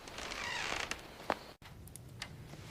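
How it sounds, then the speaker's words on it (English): A door being opened gives a loud creaking groan with scattered mechanical clicks and rattles, followed after a brief cut by quieter knocks and a faint room hum. "Let me open the door first."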